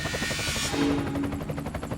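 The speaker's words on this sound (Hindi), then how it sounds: "तभी वातावरण हेलीकॉप्टर की आवाज से गूंज उठा।" A helicopter hovering overhead, its rotor beating in a loud, steady rapid chop with an engine whine layered over it, continuous throughout.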